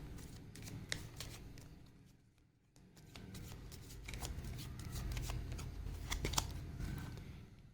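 Tarot cards are shuffled and drawn by hand. Soft papery rustles, riffles and light taps come close and fairly faint, with a short quiet pause midway before the handling picks up again.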